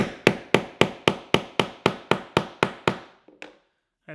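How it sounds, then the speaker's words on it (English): A mallet strikes eleven times in a steady, even rhythm, driving a wooden handle into a mallet head, each blow sharp and close, followed by a couple of faint taps and a short scrape. "turn the mallet upside down like this and just give it a whack"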